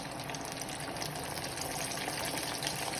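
Homemade KFC-style chicken pieces fry in hot beef tallow, a dense continuous sizzle and crackle of bubbling fat, steady and fairly close, with no talking.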